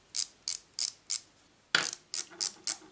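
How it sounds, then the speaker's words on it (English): A micrometer's ratchet clicks as it is turned, producing about nine crisp, evenly spaced clicks up close with a short pause midway. "So what I have on the end is a ratchet which will click"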